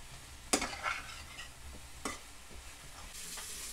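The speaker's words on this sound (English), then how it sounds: "Mix the herbs and spices together." Dry spices (salt, cumin, garlic powder, onion powder, fennel, oregano) stirred together in a bowl, giving a few sharp scraping clinks and soft rustling strokes, close and fairly quiet, with no talking.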